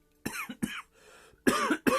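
Several harsh, close coughs in quick bursts, two pairs separated by a brief pause.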